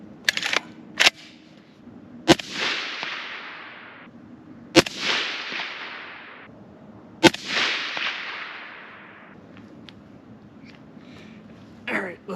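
An FN SCAR 17 rifle fires Winchester 7.62 M80 rounds outdoors: three loud, sharp shots spaced a few seconds apart, each followed by a long echoing decay, with lighter clicks and handling sounds before and after.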